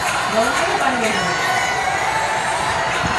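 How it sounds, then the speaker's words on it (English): Cricket crowd at a T20 match in Gwalior, a dense distant roar of cheering and shouting from a large stadium audience, steady throughout with a commentator's voice faintly mixed in. "Crowd enjoying themselves."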